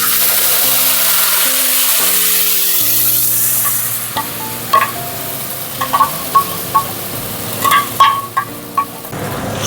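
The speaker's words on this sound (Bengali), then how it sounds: "এবার মশলাটাকে কষিয়ে নেব" Spice paste of tomato, ginger, chili and cumin powder frying and being stirred in hot oil in a pan, a steady sizzle with intermittent scraping stirs, close and moderately loud, no talking.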